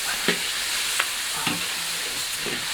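Pork belly stir-frying in a wok over high heat, a steady hissing sizzle with a few sharp scrapes of the spatula at intervals, close and continuous.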